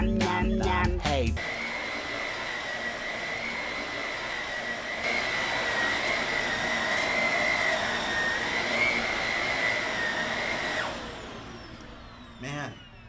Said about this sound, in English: Man, that vacuum really sucks,